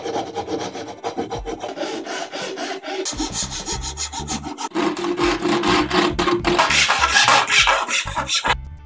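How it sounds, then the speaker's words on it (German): A hand saw cuts pieces out of a wooden board for a geocache container, with rapid rhythmic rasping strokes close by that grow louder and faster toward the end, no talk. "Für den Geocache schneiden wir jetzt diese Flächen aus dem Holzbrett raus."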